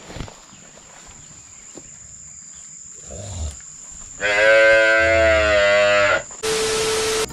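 A cow on a farm in Venezuela gives a loud, close, drawn-out moo of about two seconds, followed by a second bright burst, over quiet rural background with a constant high insect whine.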